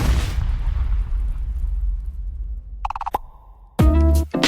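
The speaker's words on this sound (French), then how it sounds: "Une explosion." An explosion sound effect: a deep booming rumble decays over a few seconds, then sharp electronic tones and a second loud burst follow.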